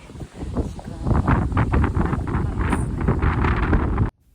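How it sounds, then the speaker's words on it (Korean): Strong wind buffets an outdoor microphone with a loud, gusty rumble and roar that rises and falls for about four seconds before cutting off suddenly. "바람이 엄청 부네요"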